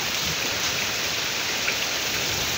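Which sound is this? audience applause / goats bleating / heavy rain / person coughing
heavy rain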